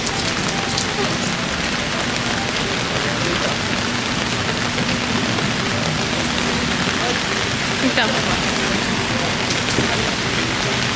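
Steady, dense rain falls in San Juan, a constant loud hiss of drops on surfaces filling the whole stretch with no break, no voices standing out above it.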